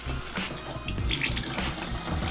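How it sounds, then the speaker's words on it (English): An upstairs faucet left running to bleed air from the water lines after a gas water heater replacement, a steady close hiss of flowing water with a few sputtering spurts. "faucet on upstairs to bleed all the air out of the lines"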